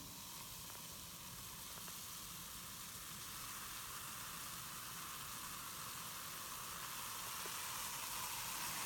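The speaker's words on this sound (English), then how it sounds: "That fizzing noise is also a sign of a chemical reaction." Baking soda fizzing steadily as it reacts with acetic acid, a soft continuous hiss that grows slightly louder over several seconds, close by with no talking.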